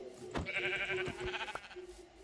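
Several wavering sheep bleats from a Minecraft game overlap in quick succession, nasal and fairly close, mixed with a few soft thuds and clicks.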